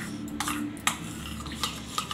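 A spoon clinks and scrapes against a bowl while rava cake batter is mixed with oil, a few sharp taps standing out over soft steady stirring.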